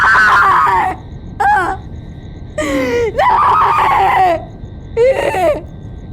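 A woman's screams in a TV crime drama, where a family has been murdered: several sharp, high, strained cries in separate bursts, loud and close, with short silences between them.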